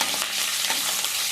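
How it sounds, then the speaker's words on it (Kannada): Steady, dense sizzle of green chilies frying in oil for beetroot palya, loud and close throughout with faint stirring movements and no voices. "ಕಾಯಿ ಮೆಣಸನ್ನು ಎಣ್ಣೆಯಲ್ಲಿ ಫ್ರೈ ಮಾಡುವುದರಿಂದ ತುಂಬ ರುಚಿಯಾಗಿರುತ್ತೆ ಪಲ್ಯ."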